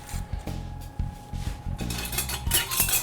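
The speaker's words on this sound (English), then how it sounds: "I'm gonna grab some tongs" Metal kitchen tongs are picked up and handled near a board of miso honey ribs, giving a run of close clinks and scrapes of metal against dishes and cutlery with brief rubbing knocks in between.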